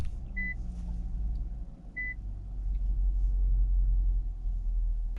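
2021 Infiniti QX80 engine starting: a low rumble builds and settles into a steady idle, heard from inside the cabin with a couple of short electronic chimes near the start.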